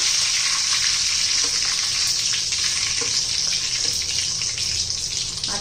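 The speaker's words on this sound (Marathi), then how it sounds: "आता जिरं मोहरी तडतडले पहा" Cumin and mustard seeds spluttering in hot oil for a tempering, a steady dense crackle and hiss with scattered sharper pops, close and fairly loud throughout, no talking.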